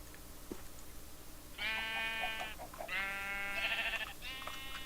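Sheep in the TerrafirmaCraft mod for Minecraft bleat in two drawn-out, wavering calls, fairly close and clear over quiet game ambience, with a short pause between them.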